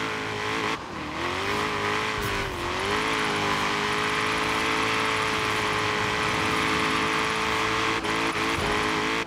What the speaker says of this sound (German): Ist jetzt nicht unnötig, vorher anfangen zu driften, weil das Auto so oder so schon driftet.